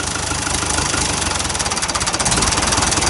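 A 60-year-old bulldozer engine idles at tick over, close and loud, with a steady rhythmic diesel chug and knock holding even throughout.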